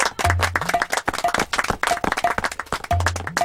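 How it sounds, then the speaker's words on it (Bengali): A classroom of children clapping for a classmate, quick uneven claps mixed with overlapping rhythmic beats and a brief repeating tonal blip. "সবাই সরোজার জন্য হাততালি দাও"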